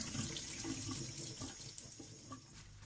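Tap water runs steadily into a sink while mushrooms are rinsed by hand, a quiet continuous splash with faint handling sounds mixed in.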